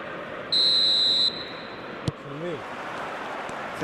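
A referee's whistle at kickoff in a PES football video game, one long shrill blast followed by a sharp click, with a commentator speaking over faint crowd noise.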